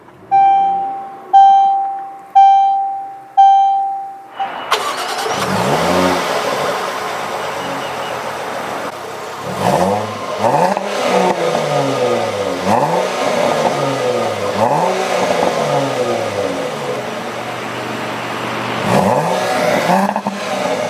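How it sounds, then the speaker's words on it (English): A 2017 Jaguar F-Pace 35t R-Sport chimes four times, then its engine fires up with a loud burst and settles into a steady, rumbling idle with small revs, close by. "with my foot on the brake, we'll go ahead and just start up the engine"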